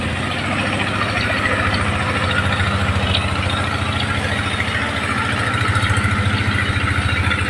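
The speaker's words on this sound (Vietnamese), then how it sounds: "Đây, ghe cổ đang chạy đây." An old boat engine runs on a river near a Khmer pagoda in Vietnam, a loud steady low chugging drone with a rapid pulsing throb, close and continuous without talk.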